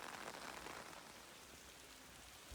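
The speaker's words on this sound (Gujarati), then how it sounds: "ફૂલ બાકા ચીકી વાળો વરસાદ છે ભાઈ" Heavy monsoon rain pours steadily in Anand, a dense continuous hiss of drops hitting surfaces and pooling water, loud and close with no break throughout.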